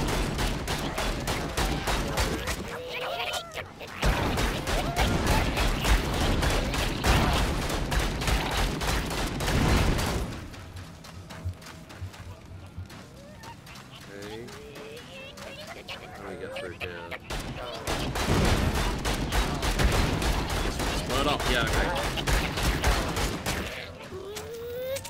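Pistol fire in the video game Vicious Attack Llama Apocalypse: dense, rapid bursts of shots in two long volleys with a quieter stretch between them, while a voice talks over the action.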